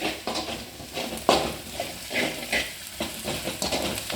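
Ginger and garlic frying in a pan with added spices and salt, crackling sizzle under intermittent stirring clatter and scraping of a utensil against the pan, moderately loud and close.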